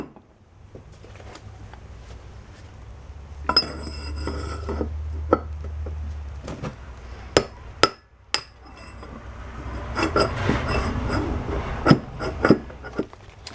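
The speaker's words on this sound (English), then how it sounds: "I'm using a chisel instead of a drift" A steel chisel is hammered against a mini bike wheel bearing: a run of sharp, metallic clanks, spaced irregularly and close up, over a low rumbling background.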